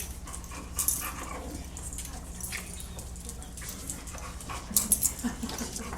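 A dog whimpers and whines in short soft bursts, with some panting and a louder cluster of yips near the end, under faint room noise.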